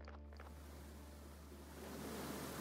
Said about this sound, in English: we hit that point where the river is really loud